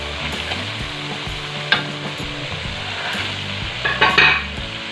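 Chicken pieces frying in a sautéed, blended spice paste for ayam bakar kecap, a steady crackling sizzle close up, with a few stirring scrapes and clinks of a utensil against the pan.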